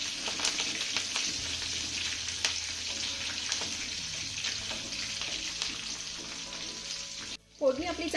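Tempering of green chillies, curry leaves and seeds sizzles in hot oil in a pan, a steady close crackle with stirring clicks, then a brief drop and a sharp burst near the end.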